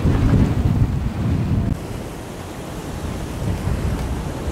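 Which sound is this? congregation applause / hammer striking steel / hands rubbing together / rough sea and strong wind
rough sea and strong wind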